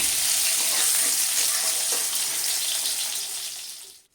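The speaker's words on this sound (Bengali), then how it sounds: "অল্প তেল যখন শেষে ছিল তখনই আমি কাঁচা কলাটা ভেজে নিচ্ছি" Slices of raw plantain fry in a little leftover oil in a pan for a Bengali mixed-vegetable dish, giving a loud, continuous hiss that fades away near the end.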